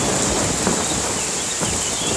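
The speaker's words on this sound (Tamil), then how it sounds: "ஏய் லூசி, இந்த பாரு மழையே வந்துச்சு" Cartoon rain pours down steadily as a dense, even hiss with faint rumbles underneath, loud and continuous with no voices.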